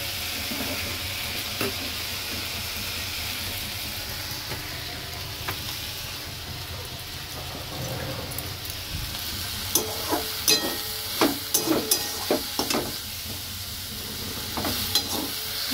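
Fish sizzles steadily in a hot frying pan at a home stove, a constant crackling hiss with scattered louder pops and spatters that grow busier toward the end, with no talking.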